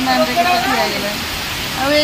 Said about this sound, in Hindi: ये धीरे धीरे वर्षा है